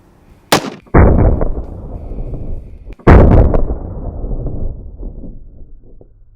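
A .308 rifle fires into a meat dummy during an outdoor ballistics test with exploding bullets: loud, sharp reports, each followed by a long, decaying rumble.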